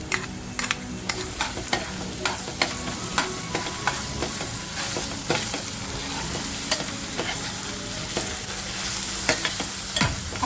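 Onion frying in a pan for mutton keema with ginger, garlic and chili added, a continuous close sizzle broken by regular clicks and scrapes of a stirring spoon, with no voices.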